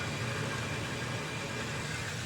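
A DAB EsyBox Max VSD water pump runs with a single tap opened fully, a steady, low motor hum with an even whir, quiet and unbroken throughout.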